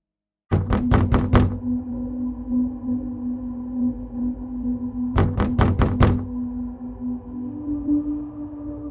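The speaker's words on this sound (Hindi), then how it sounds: "दरवाजे पर दस्तक होती है।" Knocking on a door at night, two separate bursts of four sharp, loud knocks several seconds apart, with a low sustained tone underneath.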